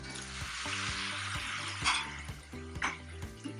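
Churro dough sizzles and bubbles in very hot oil in a small pan, a steady frying hiss with brief louder crackling bursts near the end, close and alone.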